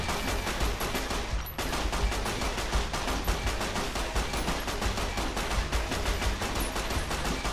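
Rapid bursts of 9mm pistol gunfire in the video game Fallout: New Vegas, loud and continuous, with a very brief pause early on.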